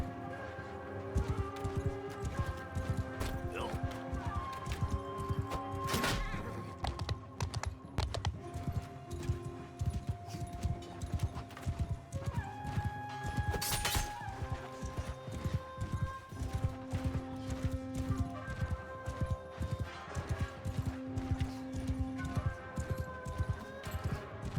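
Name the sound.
horse neighing and hooves in video game Shokuho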